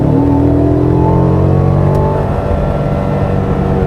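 A 2020 Mercedes GLB 250 4Matic revs and accelerates in sport mode, the engine note rising steadily in pitch for about two seconds before settling into a continuous, loud drone.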